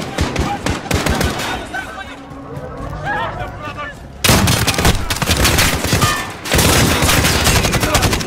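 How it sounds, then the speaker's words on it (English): Rapid bursts of automatic gunfire crack loudly in a Call of Duty firefight. The volleys are dense and near, over shouted voices and combat noise, and they stop briefly midway before resuming. "The gunshots, of course."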